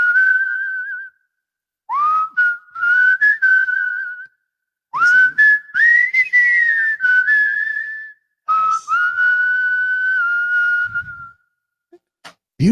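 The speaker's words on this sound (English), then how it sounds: "More reverb on the whistle, please." A person whistles a tune in several long melodic phrases separated by brief pauses, the whistle clear, close and loud, with gliding pitch and a little reverb.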